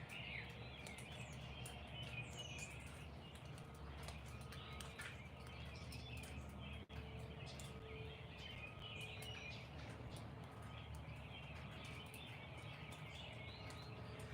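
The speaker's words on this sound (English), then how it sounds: "Ooh, some birds are showing up to eat." Birds arrive to feed outdoors in the morning, their chirps and tweets faint and scattered over a steady low background hum.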